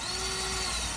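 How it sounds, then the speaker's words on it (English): A power drill bores a hole in a wooden chair part during a restoration, its steady motor whine running unbroken and fairly loud for the whole moment, with no talking. "So, yeah, I need to drill another hole."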